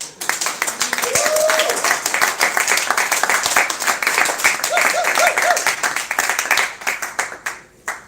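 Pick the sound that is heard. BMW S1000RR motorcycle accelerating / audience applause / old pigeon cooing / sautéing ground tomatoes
audience applause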